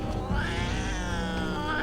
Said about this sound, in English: Don't you touch the cat.